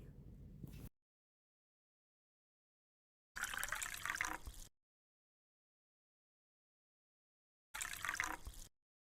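Chopped ridge gourd is rinsed in water in three short separate bursts of splashing and sloshing, quiet and close, with silent gaps between them.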